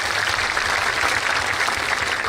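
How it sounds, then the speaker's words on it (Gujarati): Applause from a crowd at a Patidar community gathering, a dense, steady wash of clapping that holds at an even loudness from start to end. "એમને જોરદાર તાળીઓના ગણગડાટથી બતાવો"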